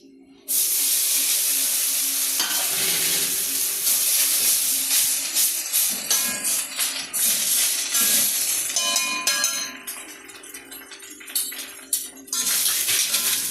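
Sev is dropped into hot oil in a pan and stirred, setting off a sudden loud sizzle that crackles and fades unevenly, with a few light clinks of a utensil and no talking.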